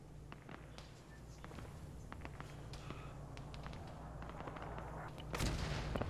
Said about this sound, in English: Oh, we're getting mortars.